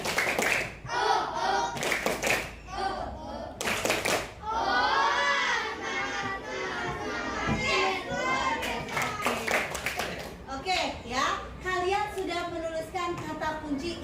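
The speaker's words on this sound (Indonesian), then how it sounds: "tepuk tangan buat kita semua" Students in a classroom clap their hands on the teacher's cue, with bursts of rhythmic clapping mixed with the teacher talking and children's voices and chatter throughout.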